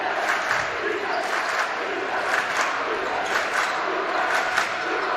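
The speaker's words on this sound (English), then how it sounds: "North Vermilion crowd comes alive." Crowd of North Vermilion basketball fans at a regional high school game roaring and cheering in a gym, a sustained loud wash of voices with a commentator talking over it.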